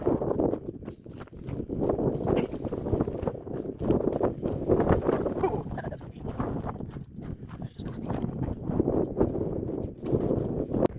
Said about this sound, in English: And it just got super windy.